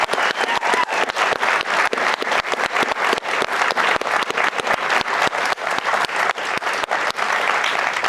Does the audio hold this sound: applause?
yes